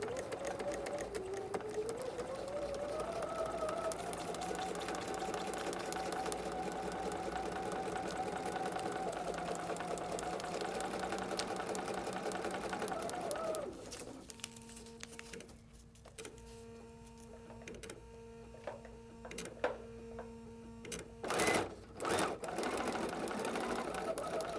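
A sewing machine stitching foundation paper piecing with a shortened stitch length: a steady, close mechanical whir runs for about fourteen seconds, then stops and gives way to quieter handling noises.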